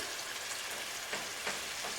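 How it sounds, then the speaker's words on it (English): Ground meat sizzles and crackles steadily in a hot pan, a dense hiss with occasional scraping stirs, heard up close with no talking. "Hamburger is browning up beautifully."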